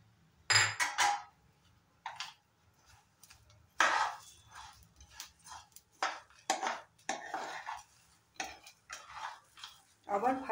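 Chopped green chili mixed into a hot cumin and peanut snack mixture with a spoon in a metal pan, irregular clattering scrapes and knocks in short bursts, close by, no talk.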